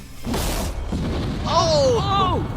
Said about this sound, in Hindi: आगे हम एक पूरे के पूरे गांव को एक क्रीपर धमाके से उड़ाने वाले हैं